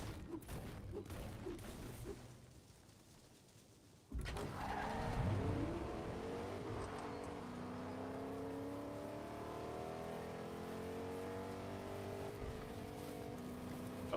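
A Rocket League car in a Fortnite match drives with a steady engine drone, with a sudden louder surge partway through that leads into sustained tire and engine noise. The sound is faint and there is no talk.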